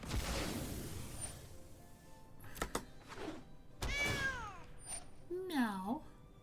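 Cat meows from the MTG Arena game, several rising and falling mews with short thunks between them, played close over a game's background noise.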